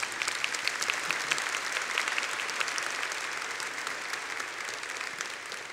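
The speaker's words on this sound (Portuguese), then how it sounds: "Podemos aplaudir a palavra de Deus" A church congregation applauds during a prayerful Bible reading led by a priest. The clapping is steady and moderately soft, with crisp individual claps scattered through a continuous wash.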